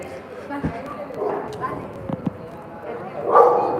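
A few short dog barks, one early and a quick pair later, amid faint background voices and outdoor noise on a Sunday evening in Valencia, Spain.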